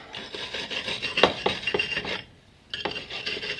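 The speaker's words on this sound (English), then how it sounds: "give it a brush." A wire brush is scrubbed by hand over a go-kart tyre rim in quick, rasping back-and-forth strokes, stopping briefly before the scraping starts again.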